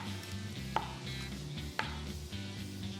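A knife chops sausages on the bias against a cutting board, two sharp distinct knocks standing out over a steady low kitchen hum.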